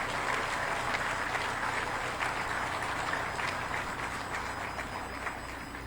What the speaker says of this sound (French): je vous prierai une fois de plus d'applaudir pour le professeur Joseph Orona